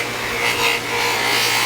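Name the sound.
Kydex holster being buffed on a buffing wheel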